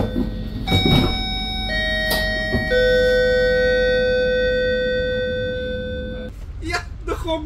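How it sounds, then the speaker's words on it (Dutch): A train's door-closing chime rings out as sustained, layered gong tones that hold for several seconds and fade, with people talking and knocks around it inside the carriage. "Ja, de gong!"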